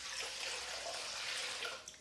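Cold water pours steadily into a foot spa basin holding dissolving magnesium salt, a continuous close splashing rush for two seconds with no voices.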